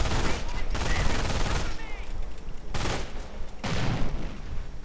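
A light machine gun fires in a real-time strategy battle game, with several long bursts of dense, crackling gunfire separated by brief lulls, over a steady background of battle noise.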